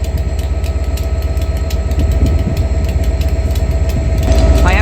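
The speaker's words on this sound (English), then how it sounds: "I am going to have to shout over the mighty engine of this Class 67" A Class 67 diesel locomotive, 67008, idles at a Cardiff station with a set of ex-LNER coaches, its loud, deep engine rumbling steadily throughout, with a brief rising whine near the end.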